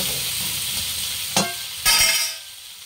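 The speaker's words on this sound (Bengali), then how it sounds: "আর দিয়ে দেবো রসুন লঙ্কা দুটো সব ভালো করে কষানো হয়ে গেছে" Garlic and green chilies sizzle with shrimp in a pan, a steady close frying hiss broken by two sharp stirring scrapes or clanks, with no talking.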